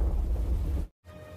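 Heavy rain pours in a war film scene, a dense, steady roar of downpour with deep rumbling low end that cuts out abruptly for a brief moment before returning.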